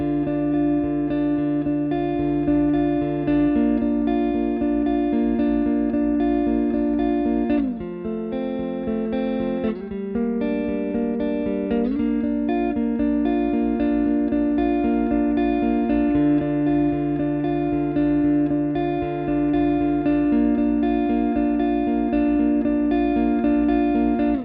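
Guitar picking pattern from a song rings steadily for the whole stretch, with repeated arpeggiated notes over a held low shape and a brief chord shift midway, close and with no talking.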